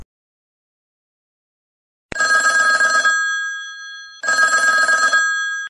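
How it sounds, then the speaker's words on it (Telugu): A phone ringtone built from a person's name plays from a website in two separate bursts of bright electronic ringing, loud and clean, each lasting about a second with a short pause between them. "ఇక్కడ చూడండి, స్వీటీ నేమ్ రింగ్ టోన్ అని వచ్చింది,"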